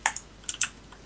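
Keys tapped on a computer keyboard during a Minecraft UHC session, a few quick close clicks in two short bursts, quiet and with no talking.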